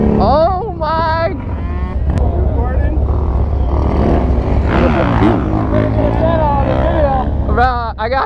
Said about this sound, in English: we're about to ride a Harley. It's a 1400.